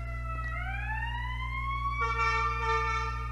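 A passing ambulance siren wails with rising tones, fairly clear over a steady low hum.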